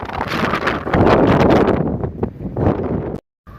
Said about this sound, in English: it is very, very, very, very, very, very, very, very windy here